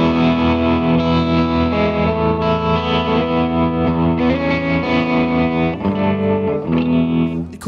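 An electric guitar runs through the tremolo effect of a TC Electronic Nova System multi-effects unit. Sustained distorted chords play continuously at steady loudness for several seconds, with no talking.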